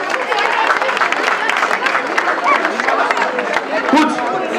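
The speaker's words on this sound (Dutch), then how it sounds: "Een groot applaus voor alle scheidsrechters en vrijwilligers." Applause from the crowd at a youth under-14 football tournament prize ceremony, honouring the referees and volunteers: a dense, steady wash of clapping mixed with crowd chatter, loud and close, holding for the full stretch.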